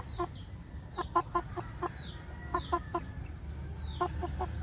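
Chickens cluck repeatedly inside a chicken house in the Philippines, short bursts of clucks in uneven clusters over a steady low background hum, fairly near and moderately loud.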